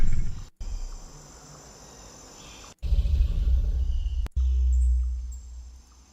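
A T-Rex in an indie horror video game trailer rumbles with deep gurgling and heavy breathing, loud and close, in several bursts broken by abrupt cuts of silence, with a faint high insect-like hiss beneath.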